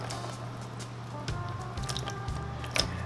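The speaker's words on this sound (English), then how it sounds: "I'm gonna pour water right on top." Water is poured over a compressed coco coir brick sitting in a waterproof container. Close, soft squelching and trickling can be heard as the coir soaks, with a sharper wet splash near the end and no talking.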